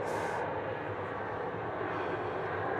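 Jet airliner engines roar loud and steady at Melbourne Airport, a continuous broadband rumble with a brief brighter hiss at the start, no voices.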